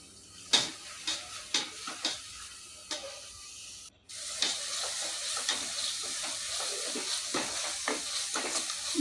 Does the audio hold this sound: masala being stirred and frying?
yes